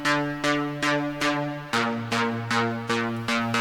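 A distorted, layered synth bass from FL Studio repeats short sustained notes with a bright, gritty top end, dropping to a lower pitch halfway, steady and moderately loud throughout.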